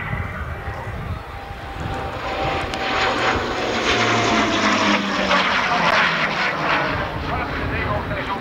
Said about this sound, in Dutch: En omhoog moet er onmiddellijk vol vermogen tegenaan gegooid worden